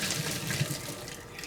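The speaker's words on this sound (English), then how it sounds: "I like to run cold water over it." Cold tap water runs over tapioca pearls in a strainer, making a steady close splashing stream with no voices.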